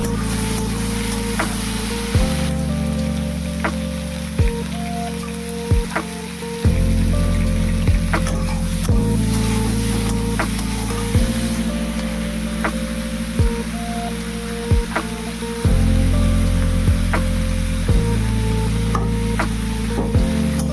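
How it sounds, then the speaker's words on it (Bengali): Potatoes fry in oil with cumin, bay leaf and grated ginger in a wok, giving a continuous hissing sizzle with occasional stirring clicks, partly under background music. "এখন আবার কড়াইতে তেল দিয়ে দিলাম, ফোড়নে দিলাম জিরে, তেজপাতা আর আদা গ্রেট করে"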